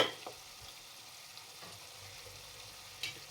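Chicken tikka with chopped coriander and a little sugar being stirred in a hot pan, a steady soft sizzle with faint scrapes and a couple of sharper clinks of the spoon against the pan.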